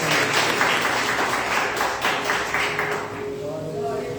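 Church congregation clapping together in a dense, sustained burst of applause that fades toward the end, with a steady tone emerging underneath.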